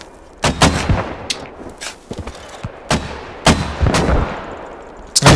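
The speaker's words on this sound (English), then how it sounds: "So many mortars shooting in the same position" Mortar barrage in the military shooter game Squad: a rapid, irregular string of heavy booming impacts and launches, some sharp and close, others softer and more distant, overlapping one after another.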